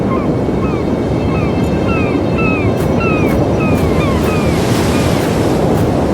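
North Sea waves break against grey, steep English cliffs in Black Mirror 3, with constant loud surf and gusting wind. Gull-like cries sound faintly over the roar.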